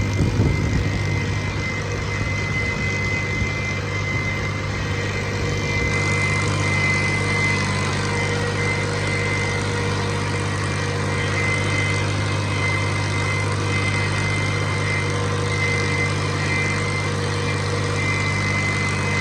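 A tractor engine idles close by at a night wheat harvest with a steady, droning chug that holds constant throughout, with no other sounds.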